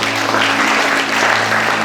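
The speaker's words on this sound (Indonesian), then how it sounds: "Tepuk tangan yang mulia bagi Tuhan Yesus" A church congregation at a worship service breaks into loud, sustained applause, a dense continuous wash of clapping with a steady low hum beneath.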